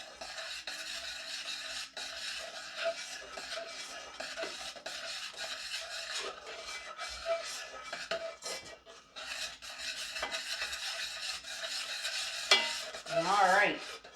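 Snowball cookie dough with cocoa powder is stirred in a bowl, making continuous scraping and rubbing strokes with light clinks of the utensil against the bowl, close and steady throughout.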